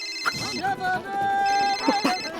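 A telephone ringtone sounding as a steady melodic electronic tone, loud and close, with excited voices talking over it in a comedy scene.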